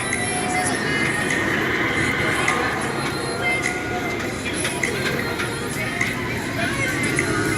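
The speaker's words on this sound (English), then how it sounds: "there goes the train." A roller coaster train rumbles past at a crowded amusement park on a hot Fourth of July, a steady loud roar of wheels on track with faint squeals, under crowd hubbub and some talking.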